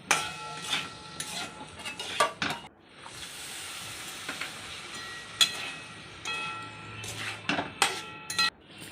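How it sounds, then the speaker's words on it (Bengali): A spice paste of chilli powder and salt fries in a pan for aloo palak saag, with bursts of sizzling from added water and the clatter of a spoon stirring against metal, intermittent and close. "এই পুরো মশলাটাকে একটু ভেজে নেব, একটু জল দিয়ে দিয়ে ভাজবো যাতে মশলাটা পুড়ে না যায়।"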